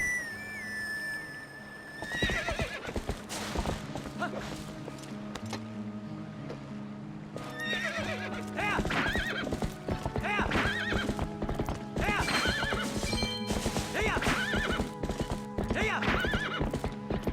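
Epona, the horse in The Legend of Zelda: Twilight Princess, gallops with a steady clip-clop of hooves and occasional whinnies over game music and ambience, with a voice talking over part of it.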